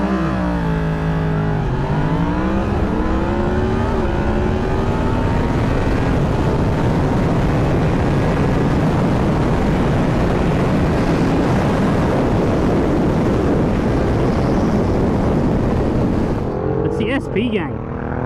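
A Yamaha MT-10SP and a Ducati Hypermotard SP launch in a drag race, engines revving up through rising gear sweeps into a loud sustained roar that fades slightly, with voices talking over it.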